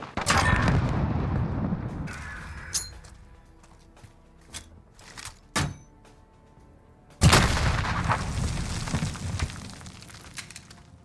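Grenades going off in the first-person shooter map Azhir Cave, several sharp booms and cracks with reverberant tails, including a long rumbling blast near the end, loud and close, no talking.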